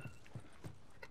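Horse hooves clip-clop on the ground in The Last of Us Remastered, four evenly spaced, quiet hoofbeats.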